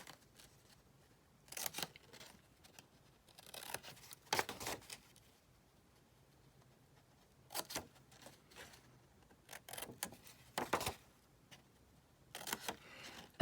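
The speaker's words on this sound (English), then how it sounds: "you want to cut right up to the point where the template ended" Scissors snip through a paper envelope template in short bursts of crisp cuts, separated by quiet pauses, close and fairly soft with no talk.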